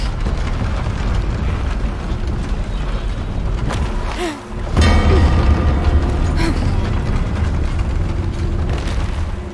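Deep rumbling explosions and shaking in Shadow of the Tomb Raider, a sustained low roar with a brief dip followed by a louder heavy boom and creaking debris, set inside an underground temple.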